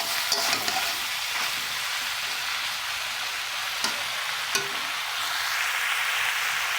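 Vegetables with chilli powder sizzle steadily in a pan, a soft continuous frying hiss punctuated by a few brief clicks and scrapes of stirring, with no talking.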